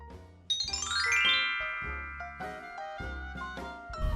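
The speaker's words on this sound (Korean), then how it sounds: "누가 초인종을 울렸는데?" A doorbell rings with a bright electronic chime melody, a series of clear ringing tones stepping up and down, close and fairly loud with no voices.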